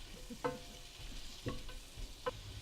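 Onions and garlic fry gently in a pan on a campervan stove by the beach, with a soft steady sizzle and three distinct clinks of a utensil against the pan, quiet and close.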